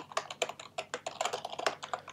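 Typing on a computer keyboard while writing Minecraft Bukkit plugin code, a steady run of close, crisp key clicks at a quick, slightly uneven pace, with no voices.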